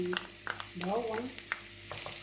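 Garlic sizzles in hot olive oil in a pan, with a soft steady crackle and a few stirring scrapes, while faint background voices carry on nearby.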